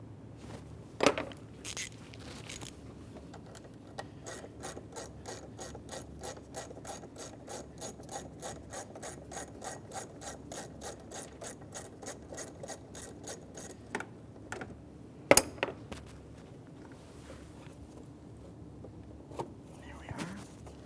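A 10mm ratchet loosening hose clamps on a 2008-2017 Mitsubishi Lancer clicks in a fast, steady run of sharp ratcheting, close by, with a few clanks and knocks around it.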